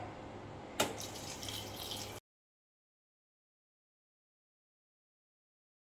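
Water runs and splashes into a container for about two seconds after a sharp clink, then silence follows.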